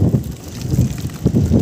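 Strong seaside wind at Naga, Cebu gusts and buffets the microphone in low, rumbling bursts, loud and close, with no talking.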